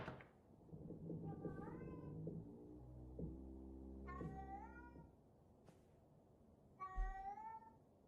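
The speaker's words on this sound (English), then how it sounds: "The cat is meowing." A house cat meows several times in drawn-out, rising calls spaced across a few seconds, set against a steady background hum with murmured voices nearby.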